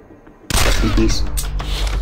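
Pistol gunfire in the video game Sierra 7, a sudden loud onset of dense, sustained shooting that fills the whole clip, with the blasts running together into a continuous roar.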